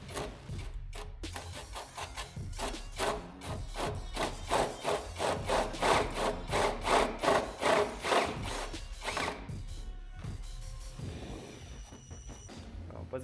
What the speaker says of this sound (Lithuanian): Gręžiam toliau.